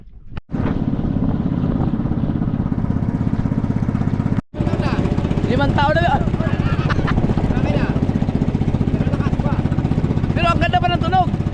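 A five-year-old engine runs steadily and loudly throughout, a dense low rumble with a brief cutout, while people talk over it.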